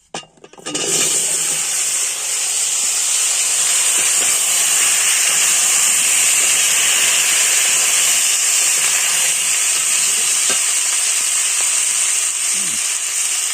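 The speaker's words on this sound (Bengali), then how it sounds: "এবার কুমড়োটা দিয়ে দেবো তেলে" Pumpkin pieces dropped into hot oil burst into a loud, continuous frying hiss that holds steady after an initial clatter, in a pan already used for frying fish.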